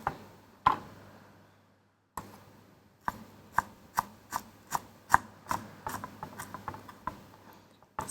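Knife chopping vegetables, celery among them, on a cutting board: a quiet run of sharp taps, sparse at first and then quicker and more regular, close by in a kitchen.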